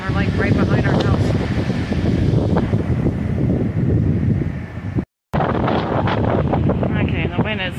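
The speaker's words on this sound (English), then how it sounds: "the wind is kind of getting better" Strong wind roars and buffets the microphone outdoors near a house where trees have broken, a loud, constant gusty rush with people talking over it throughout and a brief dropout partway.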